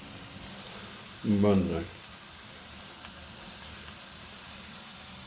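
Cheesy chicken balls fry gently in oil over a low flame, a soft, steady sizzle running quietly in the background while someone briefly speaks over it.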